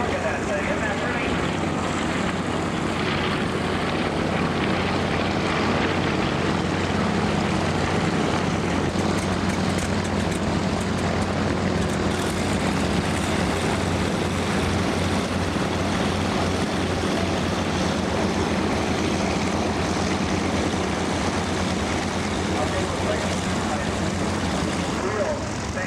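A propeller gunship airplane flying at a 1993 Central Texas Wing airshow makes a continuous loud, broad engine roar that holds steady throughout, with crowd ambience underneath.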